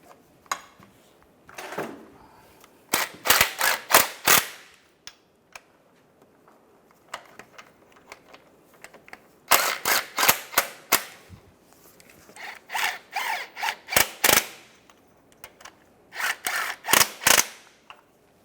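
Clutch pressure plate bolts on a 2005-2010 Chevrolet Cobalt are tightened with a wrench in quick clicking ratchet bursts, several rapid runs separated by pauses, close and crisp with no talk.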